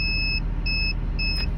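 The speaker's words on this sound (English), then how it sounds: "push this till it beeps" A John Deere 210G LC excavator's hydraulic coupler control button gives three short, clear electronic beeps over the steady rumble of the running machine.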